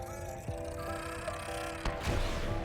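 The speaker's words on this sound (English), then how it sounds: "And that's the explosion." An exploding fish detonating in Subnautica: Below Zero, a dull booming thump with a rumbling tail that rises out of a humming underwater game ambience.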